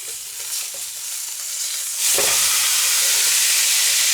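Food gets flipped in a frying pan in a log cabin kitchen, and a quiet crackle suddenly swells into a loud, bright, hissing sizzle that stays strong to the end.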